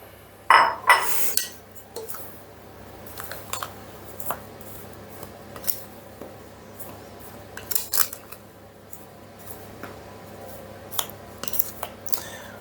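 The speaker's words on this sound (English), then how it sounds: "rub the butter into the flour and mix in the sugar" Butter, flour and sugar are worked together in a mixing bowl for old-fashioned raspberry jam buns, giving sporadic clinks and scrapes of utensils against the bowl, close but mostly quiet between bursts.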